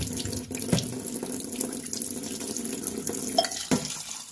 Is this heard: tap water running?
yes